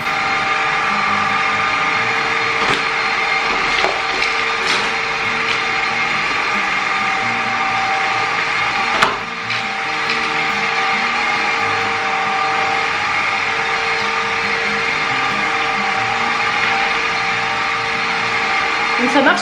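A Redkey wet vacuum cleaner runs continuously with a steady mid-pitched whir while it picks up soil, broken by scattered clicks and rattles of debris and one brief dip partway through.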